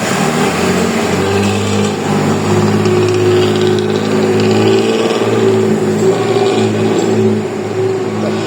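Classic economy bus with early-generation Tangka bodywork, Jaya Kuning Abadi fleet on the Surabaya–Madiun–Ponorogo route, rumbling loudly through its exhaust at Bungurasih terminal, a steady close deep drone throughout.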